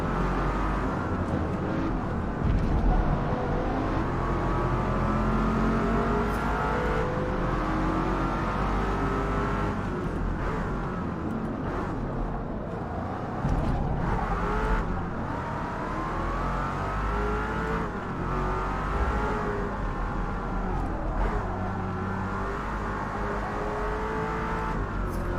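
Sustained engine revving in the Forza Motorsport (2023) racing game, a heavy car wavering in pitch as it accelerates and eases off around the track, loud and continuous throughout.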